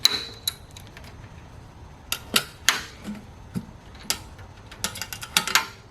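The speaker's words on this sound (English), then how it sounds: "We put the lid on there, lock her down." Clicks and metallic snaps as the lid is fastened and clamped down on a mash fermenter, a scattered series of sharp close latching sounds over a quiet background.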